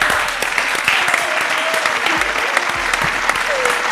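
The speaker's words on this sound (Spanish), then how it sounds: "Bien, fuerte el aplauso" An audience at an improv theatre show gives steady, dense applause that stays loud and even throughout, with a voice briefly audible over the clapping.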